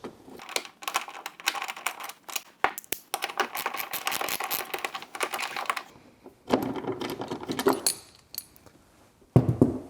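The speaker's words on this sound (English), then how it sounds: "I'm going to go ahead and remove the two bolts." Two bolts are worked loose from the rear hatchback lift support strut mount of a Suzuki SX4, giving rapid bursts of close metallic ratchet clicking separated by short pauses.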